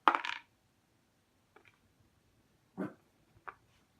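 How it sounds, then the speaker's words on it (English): Dice rolled into a dice tray during a solo tabletop game of Tiny Epic Galaxies, giving a loud opening clatter followed by several shorter, softer rattles as the dice settle, with no talk. "So I'll roll the dice."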